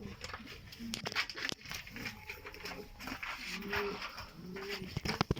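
Posta pigeons cooing in a loft, several soft repeated throaty coos close by, with someone talking over them.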